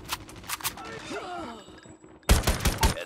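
Rapid gunfire bursts crack out in the Crash Map multiplayer shooter game, short loud volleys at the start and a heavy burst near the end, with quieter game sounds between.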